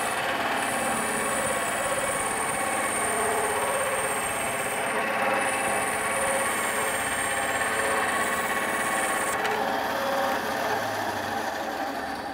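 A table saw runs with a steady, loud whine while cutting a very thin slice from a sheet of foam for a Loki mask, the motor tone shifting slightly as the blade passes through.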